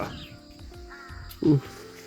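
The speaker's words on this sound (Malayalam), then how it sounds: "കാക്കകളുടെ സൗണ്ട് കേട്ടിട്ടാണ് നമ്മൾ രാവിലെ എണീക്കുന്നത്" A crow gives a loud, harsh caw close by, with fainter cawing from a large crowd of crows and background noise around it, in Umrangso.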